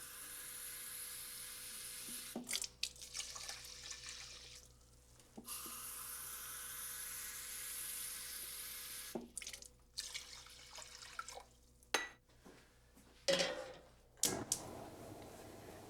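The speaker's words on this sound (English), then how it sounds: "for every 1 part of quinoa, 2 parts of water" Water runs from a tap into a cooking pot for quinoa, a steady splashing stream with a few short pauses and clunks of the pot being handled, fairly close and with no talking.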